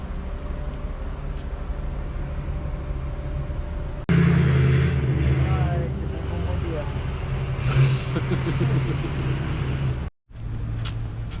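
Mazda RX-7 FD sports car with an oil leak, its engine idling with a loud, steady rumble close by after a sudden jump in level, while people talk over it.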